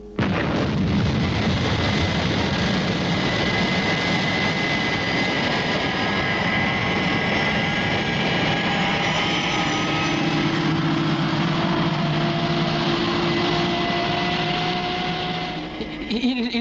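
Light aircraft engine droning steadily and loudly throughout during a landing in the desert, with a continuous broadband roar and a slight shift in tone near the end.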